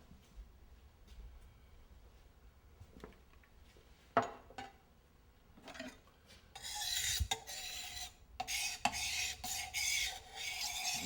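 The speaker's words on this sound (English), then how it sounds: "When you sharpen a knife, you put a little oil on the stone." A kitchen knife drawn along an oiled sharpening stone, giving soft, scattered rasping strokes that grow steadier and louder in the second half, with a few sharp clicks between them.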